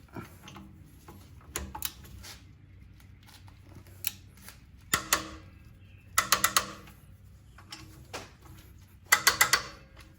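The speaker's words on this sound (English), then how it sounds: "got the torque wrench, 65 foot-pounds." Torque wrench tightening wheel lug nuts on a 5th-gen Toyota 4Runner during a brake pad job, set to 65 foot-pounds: several quick bursts of sharp ratcheting clicks, close up, with quieter handling noises between.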